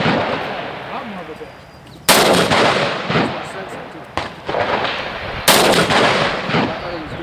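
Loud rifle shots ring out at a practical rifle match stage, with three sharp blasts spaced a couple of seconds apart, each followed by a rolling echo over outdoor background noise.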